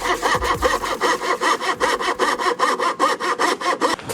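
A hand saw cuts through wood in a fast, steady back-and-forth rhythm, each close, loud rasping stroke repeating evenly about four times a second, spraying sawdust, with no talk over it.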